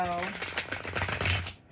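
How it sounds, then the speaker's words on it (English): A deck of tarot cards is shuffled by hand with quick, rapid riffling clicks close by, mixed under a person's talking. "Let me just shuffle."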